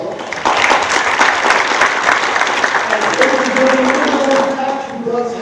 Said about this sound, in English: Can we get another round of applause for Gordon Ball?